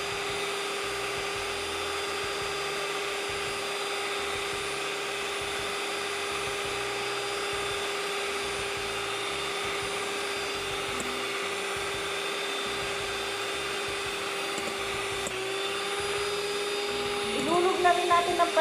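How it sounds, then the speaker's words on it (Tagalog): Electric mixer whipping meringue with cream of tartar at high speed as sugar is added, a steady close motor whine holding for the whole stretch, with a brief clatter near the end. "Simulan na natin batihin sa mabilis na antas habang dahan-dahang ihulog ang"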